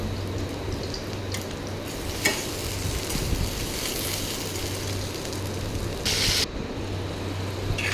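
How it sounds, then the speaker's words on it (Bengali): Fried potatoes are tossed and stirred in a hot pan, giving a steady sizzle with scraping movements throughout and a brief brighter hiss near the end. "এখন এর মধ্যে আমি আলুগুলো দিয়ে দেবো, ভেজে রাখা আলুগুলো, যাতে করে ভালো করে নেড়ে নিব।"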